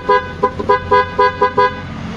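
A Yamaha Mio Gear 125 scooter fitted with an aftermarket horn under its cover gives six short, loud, evenly spaced toots in quick succession, close by with no talk.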